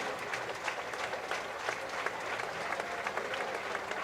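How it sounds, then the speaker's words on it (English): A big crowd at the 2021 Le Mans race applauds a driver, a dense, steady roar of clapping with scattered sharper claps that carries on without a break across the whole stretch. "You can hear the massive round of applause as well that he gets from the crowd"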